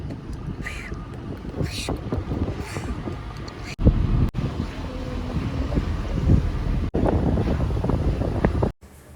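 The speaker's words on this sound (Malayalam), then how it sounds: "കാറ്റടി" Wind on the Marayoor to Munnar forest route buffets the microphone in gusty, rumbling bursts, with a few abrupt dropouts and some faint voices in the background.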